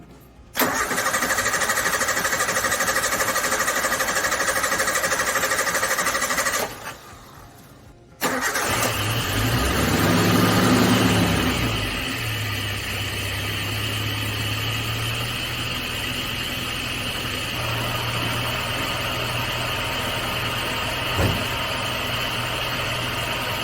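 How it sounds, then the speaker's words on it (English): A Toyota 3K carburetor engine fitted in a Suzuki Samurai cranks for several seconds, pauses briefly, then catches and fires up, revving loudly before settling into a steady close idle with no talking. "I'm gonna try to start it before I put the air cleaner on. It's gonna crank for a minute because there's no fuel in the filter."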